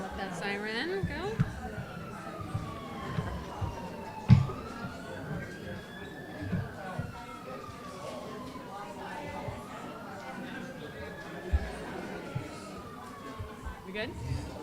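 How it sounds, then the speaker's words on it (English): A wailing siren rises and falls slowly in the distance while people chat nearby, with occasional bumps and clatter. "Let that siren go."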